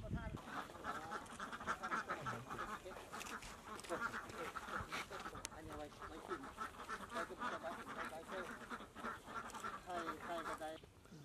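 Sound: ducks quacking on a farm

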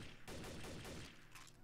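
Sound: gunfire in video game

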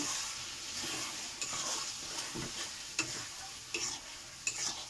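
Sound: sautéing chilli, ginger and pepper with onion and garlic

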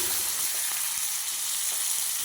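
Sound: sautéing onions and tomatoes in a pan

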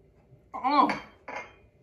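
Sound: mixing the ginger immunity drink in a glass

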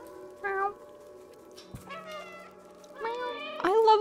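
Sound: cat meowing in the video game Stray

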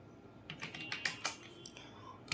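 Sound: typing an SQL command on a computer keyboard

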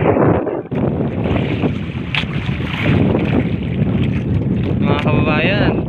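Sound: big sea waves and wind on fishing boat

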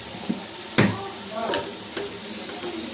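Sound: chopped tomato and salt sizzling with softened onion in pan

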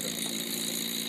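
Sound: Stirling engine running

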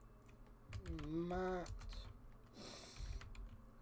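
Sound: typing on a computer keyboard

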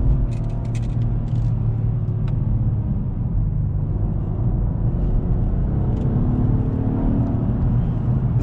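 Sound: 2020 Acura TLX A-Spec car driving on back road

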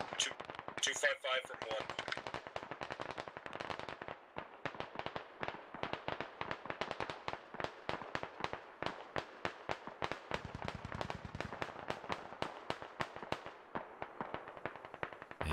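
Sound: distant gunfire in a military video game

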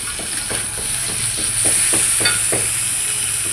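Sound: ginger garlic paste and spices added to frying onions, sizzling

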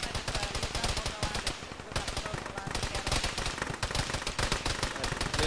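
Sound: gunfire in a military shooter video game

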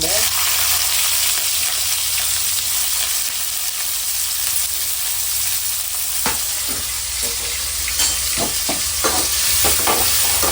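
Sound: onions sautéing with cinnamon, cloves and cardamom

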